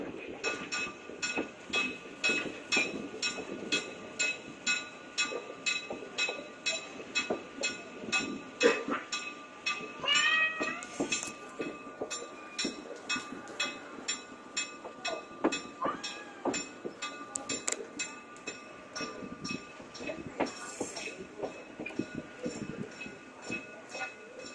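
A locomotive moves about at the Mid-Continental Railway in North Freedom, Wisconsin, with a steady rhythmic clickety-clack of wheels on rail, faint metallic squeals and a low engine rumble, heard from nearby at moderate volume.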